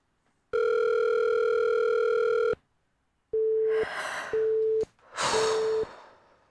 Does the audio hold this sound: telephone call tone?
yes